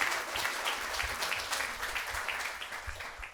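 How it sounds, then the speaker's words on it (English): An audience at a business grand opening applauds a pair of speakers, giving moderately loud, steady clapping from a medium-sized crowd without speech. "let's give these guys a massive round of applause"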